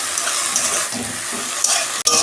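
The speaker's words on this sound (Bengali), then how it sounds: "2 মিনিট আমি নেড়ে চেড়ে ভেজে নেব।" Jute leaves are stirred and fried in a pan, giving a steady sizzle with scraping and shuffling from the spatula and a brief hard knock against the pan near the end; no one speaks.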